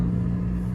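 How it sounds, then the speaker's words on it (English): Fiat 500 engine idling with a blown exhaust, a low steady rumble close by, brief and unbroken. "I haven't pimped up a Fiat 500, as you can hear."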